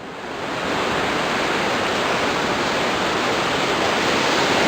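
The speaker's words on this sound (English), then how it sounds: "There's the waterfall." A steady, broad roar of rushing water from a waterfall beside a snowy forest road fills the scene, rising quickly at the start and then holding constant without any talking.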